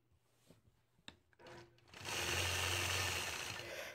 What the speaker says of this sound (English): So you'll see that I'm stitching out, holding my machine quilting ruler, starting the upper left corner.